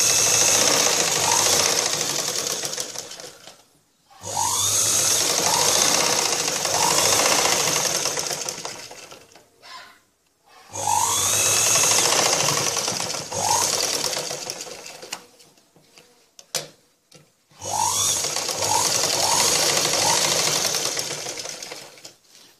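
A sewing machine stitches a blouse in fast, rattling bursts, four long runs of steady mechanical whirring separated by short pauses, close and fairly loud with no talking.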